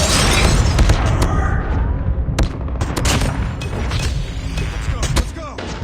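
Rapid shotgun blasts from an HS0405 shotgun in Call of Duty Mobile, a dense run of sharp close gunshots and booms over constant loud game noise during a Hardpoint match.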